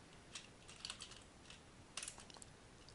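Keys clacking on a computer keyboard in short irregular bursts, fairly faint and close, typing out a search term for holiday decorations, with no talking.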